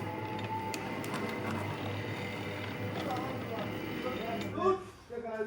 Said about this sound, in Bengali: অটোমেটিক কয়েল বাঁধাই হইতেছে